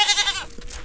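Goats bleat up close in a rural home setting, one loud wavering bleat filling the first half second before fading into softer background noise.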